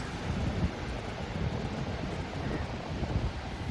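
Sea waves wash onto Gopalpur beach, a steady broadband surf roar mixed with wind buffeting the microphone, continuous and moderately loud with no distinct breaks.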